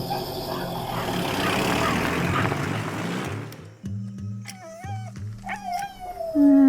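An injured puppy in a film whimpers and yips in thin, wavering high cries that follow a stretch of louder background noise, with faint voices nearby.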